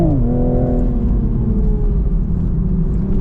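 A 2025 Toyota GR Supra accelerates in third gear on a twisty road, its engine note climbing smoothly and loudly with a deep rumble close up, no talk over it.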